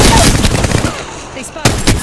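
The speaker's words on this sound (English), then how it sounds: "I don't know if you have somebody shooting at us?" Gunfire in the Apex Legends battle royale game, a loud rapid burst of automatic shots that tapers into a brief lull before another sharp burst near the end.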